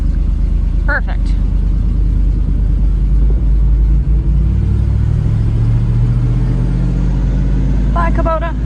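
A Kubota tractor engine rumbles steadily and loudly at close range, a continuous low drone with a slight shift in pitch midway, while brief voices are heard over it.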